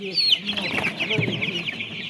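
Several chickens cluck and chatter nearby in a busy, overlapping flock sound.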